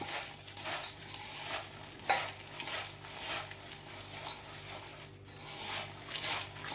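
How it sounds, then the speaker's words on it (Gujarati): Crushed potato chips churo is stirred with masala, fried peanuts, raisins and cashews in a pan: repeated rhythmic scraping and rustling strokes over a soft, steady sizzle, close and fairly quiet. "અને હવે મસ્ત રીતે તેને મિક્સ કરી લઈશું."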